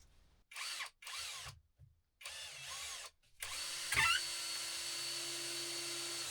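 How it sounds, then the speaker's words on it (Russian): A power drill drives a self-tapping screw into a wooden bed frame in a cabin, with several loud whirring bursts separated by short silences, then a steady continuous run, close up and with no speech. "Сейчас я вот тут вот стяну саморезом."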